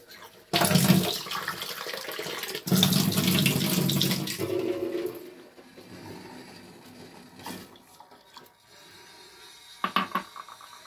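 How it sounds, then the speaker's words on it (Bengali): Water runs from a tap into a pot for tea, a loud steady gush in two bursts over the first five seconds, then fainter trickles and clinks in a quiet kitchen. "দেখো এবার এটা জলটা ফুটিয়ে রাখছি, আর একটু জল দিয়ে দিই।"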